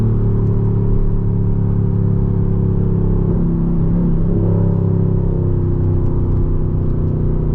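A Mercedes-AMG GT R engine drones loudly and steadily from inside the car while driving, a constant low rumble with a slight shift in pitch midway and no talk.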